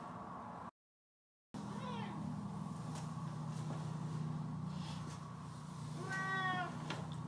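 A cat meows and cries repeatedly, its rising and falling calls fairly close against a steady low background hum.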